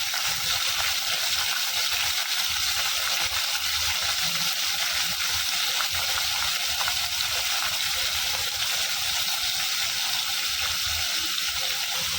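Green chillies with salt sizzling steadily in hot oil in a pan, a dense, continuous crackling fry that stays loud and even throughout with no talking.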